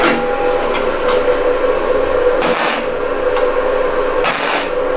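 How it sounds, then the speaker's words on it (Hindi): An ENON inverter MAG/MMA/TIG welding machine running gasless flux-cored wire to weld a 3 mm iron plate gives a loud, steady, close crackling hiss, swelling into two brief harsher bursts, with no talking. "अब हम इस पर वेल्डिंग करेंगे।"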